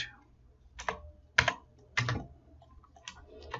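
Keys clack on a computer keyboard during SketchUp 3D modeling, a handful of separate sharp taps spaced over a few seconds, one harder press standing out, close and alone without talk.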